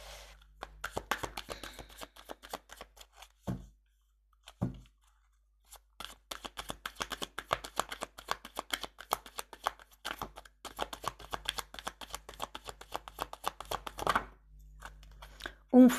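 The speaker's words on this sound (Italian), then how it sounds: "Mi sono scivolate le carte." Playing cards shuffled and slipping, a long run of rapid crisp riffling flutters broken by short pauses, close and fairly quiet, with a brief soft thump near the end.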